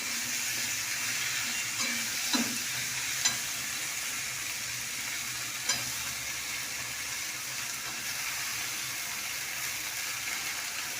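Vegetables and Malabar spinach frying in a cooked-down spice paste for a fish-head curry, a steady close sizzle running throughout with a few soft knocks of stirring, no voices.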